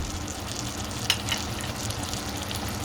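Tomato sauce bubbles in a pot, a steady close sizzling and popping with small bursts, with no voices.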